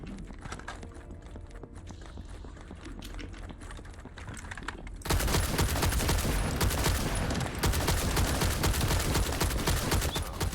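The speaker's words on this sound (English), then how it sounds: "I love how it's like a tactical rifle, but it basically works as an assault rifle" Tactical rifle in The First Descendant, rapid repeated shots forming a dense crackling fusillade that gets louder and fuller halfway through and keeps firing to the end.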